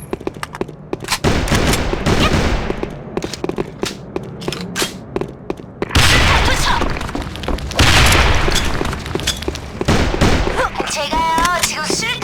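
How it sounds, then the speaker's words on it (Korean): A grenade explodes in a shooter video game: loud, heavy booms land among rapid bursts of gunfire, with the battle noise filling the whole stretch at close range. "제가요 지금 수류탄 던지거든요."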